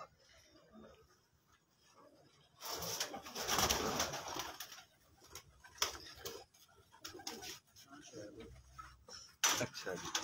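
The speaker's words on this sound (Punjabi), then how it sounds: "ਆਪਣਾ ਬਰੀਡਰ ਕਬੂਤਰ ਹੈ" A breeder pigeon at night gives soft, low cooing in short bursts, fairly close and faint, amid scattered rustles and clicks, with a quiet background and occasional louder knocks.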